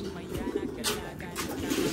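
An escaped breeder pigeon coos in a series of soft, rhythmic throaty calls close by, with a person's voice in the background.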